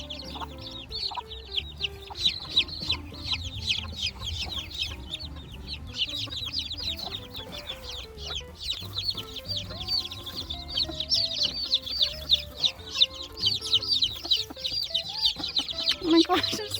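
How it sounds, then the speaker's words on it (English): Silkie hens clucking low alongside a dense flurry of high peeping from many newly hatched chicks, continuous and close, with a few human voices in the background. "We are introducing the chicks to our silkie hens."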